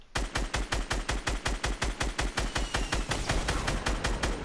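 Automatic gunfire in the video game Fortnite: a steady, rapid string of loud shots at an even rhythm, continuing throughout with no voices.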